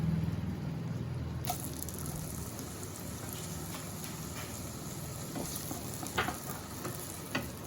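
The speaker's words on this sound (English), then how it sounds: "We need to constantly stir this and saute the vegetables." Finely chopped tomatoes sauté in melted butter, a soft continuous sizzle and crackle, close and quiet, with a few scraping stir sounds near the end.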